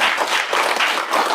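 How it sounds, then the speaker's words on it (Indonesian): A classroom of students claps for a student group after their presentation, a dense patter of hands that carries steadily through the short stretch without talk. "tepuk tangan dulu buat kelompok 2."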